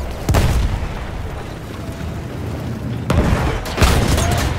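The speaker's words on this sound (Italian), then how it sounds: "Cannone distrutto!" Explosions from a destroyed cannon in Battlefield 1 on Xbox: heavy booms and bursts over a continuous battle rumble, with loud blasts near the start and toward the end.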